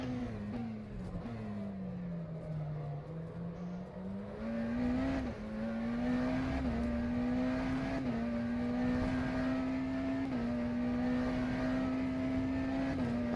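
McLaren Senna GTR hypercar engine in the rFactor 2 racing game at Sebring, a loud sustained drone rising and falling in pitch through gear changes, steady and close with no talk over it.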